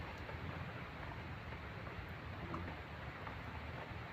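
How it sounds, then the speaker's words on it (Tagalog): Heavy rain falls on an open field, a dense, steady hiss that stays loud and unbroken from start to finish, with no voices. "malakas po ang ulan kaya nandito tayo sa bukid."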